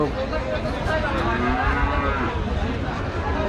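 Cattle low repeatedly at a busy livestock market in Rajshahi, with healthy cows on sale; the moos overlap amid constant crowd noise, fairly loud and close.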